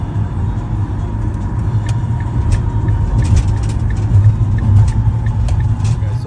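Steady freeway traffic in Houston rolls past as a continuous loud low rumble of cars and heavier vehicles, with occasional brief higher hisses from passing tires and brakes.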